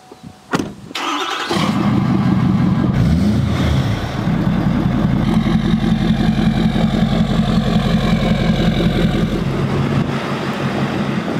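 A Ford truck engine cranks and catches after a short starter burst, then settles into a steady, rumbling idle that holds close and loud.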